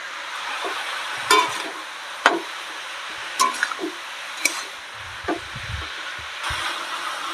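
Slit green chillies and turmeric are stir-fried in a pan, a soft continuous sizzle punctuated by several sharp scrapes and clacks of the spatula, close by and without talk.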